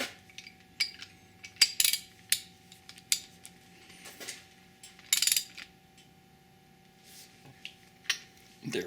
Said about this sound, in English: then snug it with the socket.